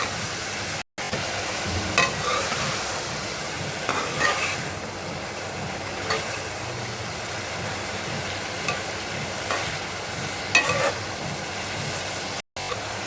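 Vegetables seasoned with salt and black pepper cooking in a pan, a steady close sizzle with intermittent scraping and stirring strokes throughout, no voices.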